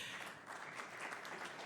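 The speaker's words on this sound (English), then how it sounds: "Round of applause for him." An audience at a civil society forum session applauds a newly introduced panelist, a soft, even wash of many hands clapping, fairly faint and continuous throughout.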